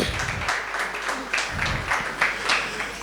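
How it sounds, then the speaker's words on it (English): An audience at a panel session on the gig economy gives a short round of applause, moderate pulsing clapping that swells and eases over a few seconds. "Another round of applause for Avril, please"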